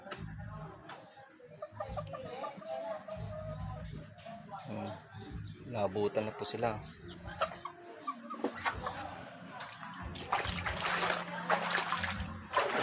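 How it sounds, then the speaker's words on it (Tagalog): Chickens cluck intermittently in a flooded yard, mixed with running floodwater and a person speaking nearby. "Malaga kong manok, oh"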